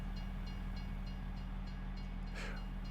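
A train passes in the Farming Simulator 22 video game as a steady low rumble with a droning mechanical hum, topped by a brief horn blast near the end.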